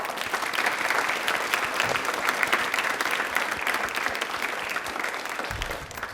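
A studio audience on a Rajasthan television general-knowledge quiz show claps in a dense, steady burst of applause that holds throughout before easing slightly at the end.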